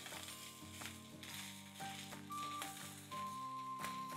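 Scrambled egg frying with fried rice in a hot pan, a continuous soft sizzle broken by repeated scraping and stirring strokes of a utensil, fairly quiet and close.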